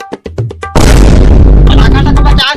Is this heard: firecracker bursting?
yes